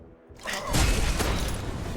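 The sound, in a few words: hit sound effect from a video game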